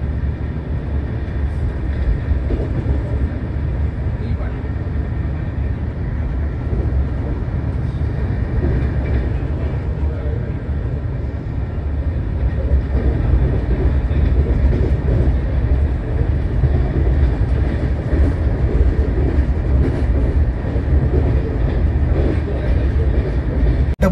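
An AC double-decker superfast train on the Ahmedabad–Mumbai route rumbles along the rails, a loud continuous low roar heard from inside the coach with faint rhythmic wheel clatter throughout.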